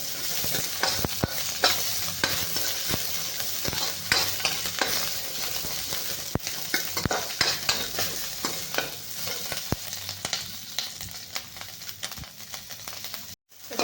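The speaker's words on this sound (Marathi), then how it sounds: "हिरव्या मिरच्या पण आपल्याला छान लाल भाजून घ्यायच्या आहेत" Green chillies roasting until red in a pan for a stuffed brinjal dish, giving a steady close sizzle with frequent scraping and stirring clicks throughout, no voices.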